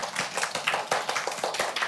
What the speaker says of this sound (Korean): 방금 박수를 친 이유가 있습니다